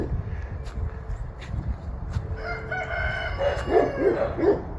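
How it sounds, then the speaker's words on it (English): A Barred Rock rooster crows near the end, a strong harmonic call rising over steady outdoor background noise after a quieter stretch. "he's actually crowing now"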